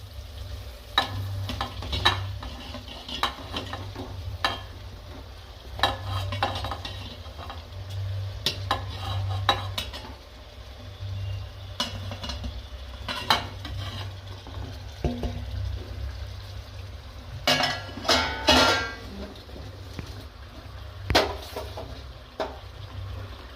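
Steamed patra, colocasia leaf rolls, tipped into a kadai of hot tempering and stirred; a continuous low sizzle runs under repeated clanks and scrapes of a spoon against the metal pan, with no talking.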